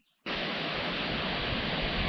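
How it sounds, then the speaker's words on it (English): Small trailside waterfall flowing over shale and sandstone: a steady, loud, full rush of falling water that starts abruptly after a brief pause and holds evenly throughout. "Here's a small waterfall that you'll encounter along the trail, and it's slowly chipping its way through shale and sandstone"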